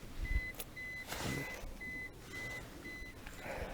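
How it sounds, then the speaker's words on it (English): A car's warning chime beeps repeatedly at an even pace, six short high tones over low outdoor rumble and faint movement noise. "You can hear his car going beep beep beep beep."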